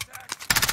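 Gunfire in Call of Duty Warzone quads: a few sharp, close shots ring out early, then a denser rapid burst of fire follows in quick succession, fairly loud, with no one speaking over it.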